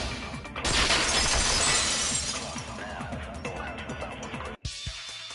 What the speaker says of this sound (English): If it wasn't the window, then what broke to make that sound? A vase.